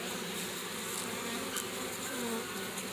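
A steady, continuous buzz of many bees, fairly close and even in level throughout, with no voices, during work on hive frames.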